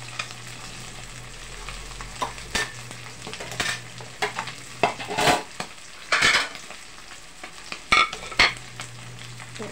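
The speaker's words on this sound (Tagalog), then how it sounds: "Ayun naman po ang ating piniprito" An egg omelette fries in a pan with a steady sizzle, broken by scraping stirs and clinks of a utensil against the pan, while a washing machine hums low in the background.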